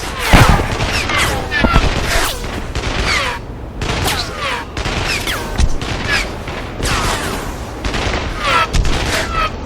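Rapid gunfire bursts from the Sniper Ghost Warrior 2 video game, Siberian Strike level, crackling steadily and loudly throughout with overlapping shots and booms, while in-game voices shout over the firefight.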